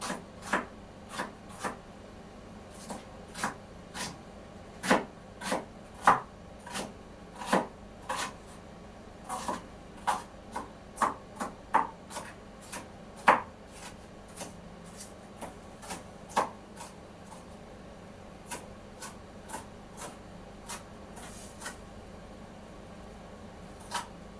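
Repeated sharp knife chops on a cutting board, irregular and fairly close, with no talking.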